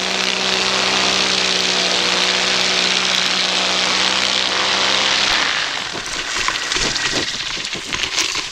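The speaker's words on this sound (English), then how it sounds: "I then decided to do a power-on landing, carrying power into the landing and then stopping it immediately once I landed." A paramotor engine roars steadily with a droning propeller hum during a power-on landing, then cuts off abruptly, leaving wind buffeting and rustling ground noise as the pilot touches down.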